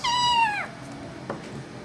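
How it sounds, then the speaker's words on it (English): A single drawn-out, high-pitched yowl from a cat fight slides downward and fades after about half a second, followed by quieter background noise. "Have you ever heard a cat fight? Very high-pitched rearing."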